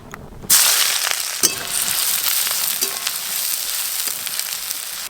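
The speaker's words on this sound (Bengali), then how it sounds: "পেঁয়াজ কুচি দিয়ে দেব।" Chopped onions drop into hot oil in a kadai and burst into a loud, close sizzle that continues steadily, with a few faint clinks and stirring sounds and no talking.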